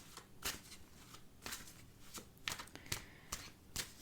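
Tarot cards are shuffled by hand up close, making repeated soft riffling swishes and flutters in irregular bursts. The sound is quiet and no one speaks.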